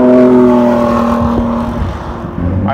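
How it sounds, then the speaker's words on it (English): A 2017 Ford GT supercar engine drones loudly from right behind the listener, a steady harmonic roar with a brief shift in pitch partway through, no talking. "that sounds like an exotic supercar"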